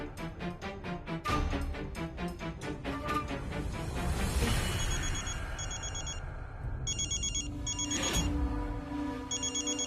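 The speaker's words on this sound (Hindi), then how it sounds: "माधव बाबू के फोन, वो इतना राती में?" A telephone rings repeatedly with a warbling electronic trill, in regular bursts over a busy background of rhythmic music and other noise.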